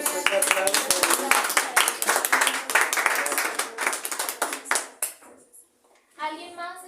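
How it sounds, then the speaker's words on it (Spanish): A church congregation gives a strong round of applause after a Spanish-language testimony, with close, dense clapping for about five seconds that fades out, followed by a short spoken voice. "Un fuerte aplauso"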